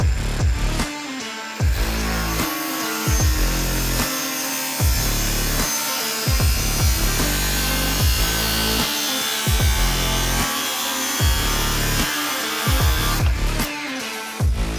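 Bosch GWS 18V-180 PC cordless angle grinder with a 180 mm disc cutting through thin-walled stainless steel, a loud sustained grinding screech broken by regular pulsing bursts throughout, with no speech.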